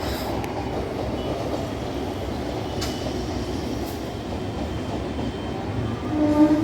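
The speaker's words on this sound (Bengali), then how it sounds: "এই যে একটা ট্রেন যাচ্ছে" A train rumbles past close by in a steady, continuous roar with faint rail clatter, heard outdoors on a clear autumn day with kites in the sky, with no talking.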